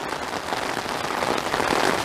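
Heavy monsoon rain pours steadily over desert ground near Phoenix, Arizona, a dense, loud, even hiss of rainfall close by with no voices.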